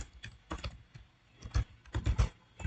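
Fingers tap a laptop's built-in keyboard in quick irregular bursts of soft clicks, close and fairly quiet with brief pauses between runs of keystrokes.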